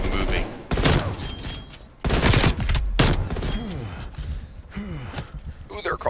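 Rapid bursts of video-game gunfire from shotguns and pistols crack loudly in several volleys, mixed with a player's excited shouting and gasps over the action.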